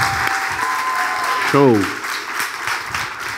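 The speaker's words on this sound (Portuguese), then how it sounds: "Palmas para nossa banda de hoje" An audience in a church service claps for the worship band, a burst of applause swelling under a voice speaking into a microphone, with a brief spoken word mid-clip.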